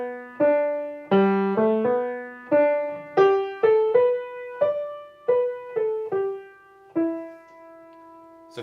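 Plain piano melody played without slip notes, single clean notes and simple phrases decaying one after another, close and clear with no voices.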